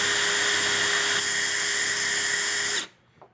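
A small drill spins steadily at a high whine while winding coils for a vape build, running loud and even for almost three seconds before stopping, followed by a faint knock.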